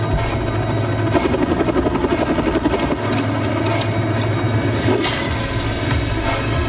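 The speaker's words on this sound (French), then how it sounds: "Faites atterrir cet hélicoptère" A loud helicopter roars continuously, close by, its rotor thumping in a fast steady rhythm with engine whine over it.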